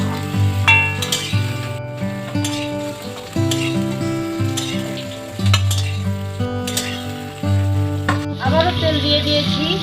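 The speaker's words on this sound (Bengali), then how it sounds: "লাল লাল করে ভেজে নেব।" Soybean chunks fry in oil in a home kitchen, a continuous sizzle broken by repeated stirring scrapes and clinks of a utensil against the pan, close and fairly loud with no talking.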